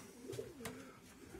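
Racing pigeons coo softly inside a loft compartment, low throaty calls rising and falling in a steady murmur, fairly close, with no voices over them.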